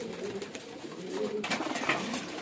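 Kalsira, bajra, chhapdar and ooda pigeons are released at a breeder's home, giving soft low coos and a couple of quick bursts of fluttering wings, faint and close.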